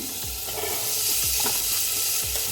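Potato and carrot pieces sizzle and fry in a pulao pan with spices, tomato and beans, a steady close hiss broken by a few soft stirring scrapes.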